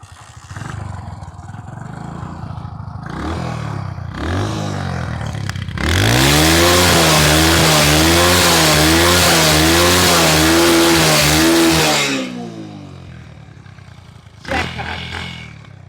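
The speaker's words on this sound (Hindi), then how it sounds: "अभी एक बार इसको स्टार्ट करके देखता हूँ यहाँ पर लाइव कि हाई स्पीड में कुछ निकलता है पटाखा वटाखा कि नहीं" A 27-year-old Hero Honda Splendor Plus motorcycle running on E20 ethanol revs its engine, climbing from a steady idle into a loud, sustained high-rpm roar for several seconds before dropping back, with a brief blip near the end.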